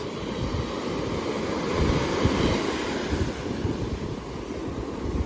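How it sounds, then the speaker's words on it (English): Big ocean waves, around three to four feet, break on a beach in a steady broadband roar with swelling surges, close and loud, mixed with strong wind buffeting the microphone. "It's gorgeous. Some pretty big waves."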